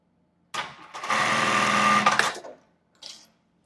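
A sewing machine topstitches an embroidered tulle bra, running in one close, steady burst of rapid stitching for about two seconds after a brief start, then stopping, followed by a short final whir.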